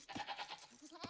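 Sheep in the Age of Empires strategy game give faint, quick bleats, several short wavering calls close together at low volume.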